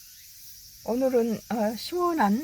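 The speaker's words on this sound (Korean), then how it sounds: "매미소리가 많이 들리죠" Cicadas on Umyeonsan mountain in Bangbae-dong, Seoul, give off a steady, thin high buzz that runs through the whole clip beneath someone speaking.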